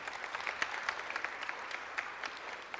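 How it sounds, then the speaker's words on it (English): Steady audience applause fills a room at an evening community gathering on knowing the law, a broad even wash of many hands clapping at moderate distance, with no voices standing out. "let's give a round of applause to these individuals for tonight"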